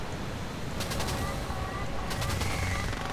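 Cannon fire from an F-111A Aardvark in a combat flight game comes in two short rapid bursts over a constant engine roar, fairly faint within the dense noise.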